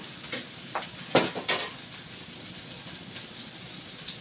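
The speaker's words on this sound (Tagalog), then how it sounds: "Igisa muna natin yan." Papaya being sautéed in a pan, with soft sizzling and a few scattered clinks and scrapes of stirring, moderately close and without speech.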